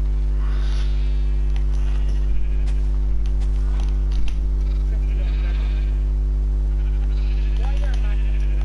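Sheep bleating in the video game Minecraft, a few short bleats scattered over a steady electrical hum, with people talking throughout.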